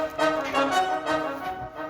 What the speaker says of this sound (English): We also got a flex patch on here from the Essential Winds library called Trumpet Staccato.